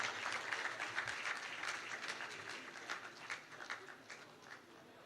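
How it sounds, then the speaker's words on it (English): Audience applause at a tech festival presentation session, a steady stream of overlapping claps filling the hall at moderate loudness for several seconds, gradually thinning slightly toward the end. "Please, a round of applause for him once again."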